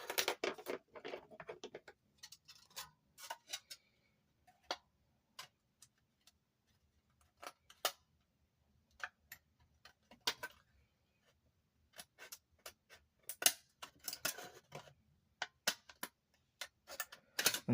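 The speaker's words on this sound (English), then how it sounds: "I'm just cutting from the left all the way to the right." Scissors snipping through thin aluminum sheet to cut out parts for a handmade Ferrari model, heard as sharp, quiet clicks spaced irregularly over a near-silent background, some in short bursts.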